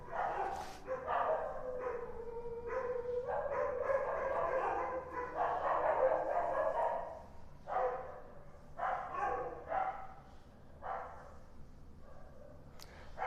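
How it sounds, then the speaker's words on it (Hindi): Several dogs bark in repeated bursts, loud and fairly close, with pauses between volleys and some yelping whines mixed in. "बहुत कुत्ता है भाई, इतना भुगता है मैं चुप हो जाता हूँ"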